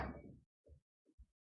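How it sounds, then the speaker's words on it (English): A knocking effect during a comedy stage production of Macbeth gives a few muffled, low thuds, spaced out and separated by silence, following a brief louder burst at the start. "Whence is that knocking?"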